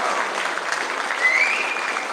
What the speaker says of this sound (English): Please, a massive round of applause for our student leaders for next year.